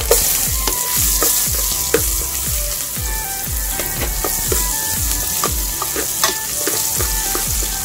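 Garlic and onion sauté together in hot oil for a monggo dish, a steady close sizzle broken by repeated scraping and stirring clicks of a utensil against the pan, with no voices.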